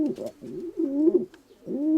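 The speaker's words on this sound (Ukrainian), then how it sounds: "Це голуб сидить." Pigeon cooing up close, a few low throaty rolling coos in quick succession, loud and clear with no talking.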